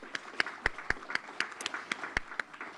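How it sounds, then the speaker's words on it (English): An audience at a federal election debate in St. John's East claps for the candidates, sparse individual claps rising and falling over a few seconds, moderately distant. "Please join me in a round of applause for the candidates."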